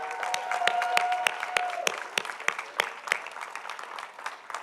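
An outdoor crowd at a new public library opening claps for a community leader, scattered sharp hand claps that start dense and then thin out and fade.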